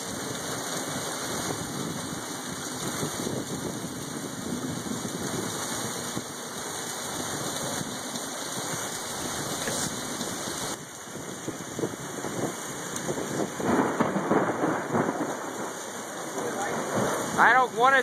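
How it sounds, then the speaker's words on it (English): Heavy rain from a thunderstorm microburst pours in a dense, steady roar with rumbling thunder underneath, growing rougher and louder toward the end. "but we're getting a microburst here."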